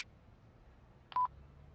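A short electronic phone tone beeps twice in quick succession in the video game Yakuza Kiwami 2, faint and alone over a quiet background.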